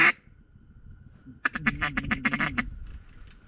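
Ducks quacking on open water during a duck hunt, a fast run of loud, close, raspy quacks after a short quiet stretch, with a faint steady hum beneath.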